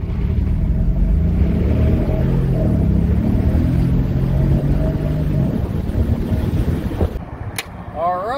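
A car on a test drive rolls along with a steady low road rumble and wind noise filling the cabin, loud and continuous, easing near the end as a brief squeak sounds.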